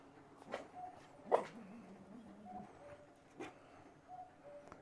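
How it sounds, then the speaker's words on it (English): Dogs fighting in Dali, China: a few sharp, fairly distant barks and yelps spaced over several seconds, rising briefly above a low outdoor background. "Wow, big dog fight."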